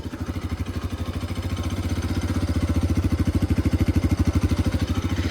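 A Bajaj Pulsar RS 200 motorcycle engine idles close by, a loud, rapid and even thumping pulse that holds steady throughout with no voices.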